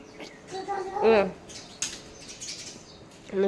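Quick fluttering wingbeats of house sparrows, close and fairly quiet, with a few short chirps mixed in.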